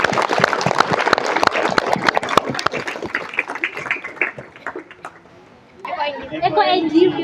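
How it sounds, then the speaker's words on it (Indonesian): Applause erupts from a school audience at an award ceremony, many hands clapping in dense overlapping bursts that taper off near the end, followed by a voice speaking. "Oke, tepuk tangan semuanya ya."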